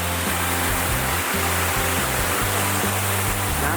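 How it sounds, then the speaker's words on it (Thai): Rushing water from a waterfall tier in Khao Laem National Park, Thailand: a steady, loud broadband roar that fills the whole clip, close by, with a low hum underneath and no voices. "อ่ะเดี๋ยวเราต้องเดิน ฝ่าน้ำตกชั้นนี้ไปนะครับอาจจะต้องมีเปียกหน่อย"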